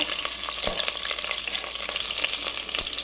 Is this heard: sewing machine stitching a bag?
no